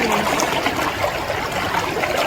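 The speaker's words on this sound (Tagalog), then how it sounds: "dahil yung ulan, marami na yung tubig. Malakas na yung agos." Steady rushing and gurgling of a rain-swollen stream with a strong current at a campsite, a continuous broadband wash with no voices.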